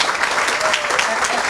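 A brief burst of crowd applause at a park foundation golf outing honors the tournament organizer, with brisk dense clapping throughout.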